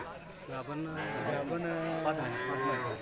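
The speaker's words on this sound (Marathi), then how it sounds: "एकापेक्षा एक खिलार गाय आहेत" Khillar cows moo at a Khillar cow show in Bargewadi, several long low calls overlapping in a fairly loud, busy setting while people talk nearby.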